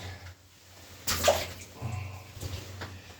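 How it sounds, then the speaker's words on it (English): Shoes splash and slosh through standing water beside a malfunctioning well in a few soft, uneven steps, one sharper splash standing out over a faint low hum, with no talking. "stepping in the water, it's not good"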